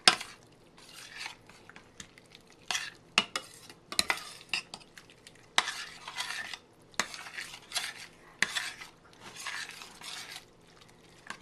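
Cheese sauce for homemade mac and cheese cooking in a pot and being stirred, repeated scraping strokes of a utensil against the pan over a soft simmering sizzle, close and moderately loud.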